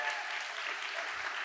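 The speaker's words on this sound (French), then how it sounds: "C'est le moment de vous applaudir." Audience applause at a Paris data science demo day, a short stretch of fairly faint, even clapping from a crowd.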